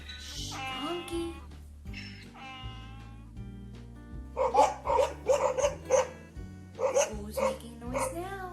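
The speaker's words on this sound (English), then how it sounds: "The dog. Shh, dog." Dog barks from a farm-animal sound game for children, a run of sharp, loud barks in quick bursts over background music, following a stretch of other animal calls.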